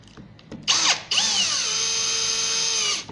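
A power drill drives a tapered screw into a pocket hole in wood, a brief whir followed by a sustained high-pitched motor whine as the screw tightens, loud and close with no speech.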